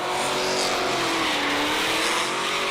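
A drift car at a competition slides under full throttle, its engine roaring steadily while the tyres squeal, loud and sustained through the whole moment, with no voices.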